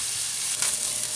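Steady, bright frying sizzle of onions in a pan, continuous and close, with a faint stir or shift partway through.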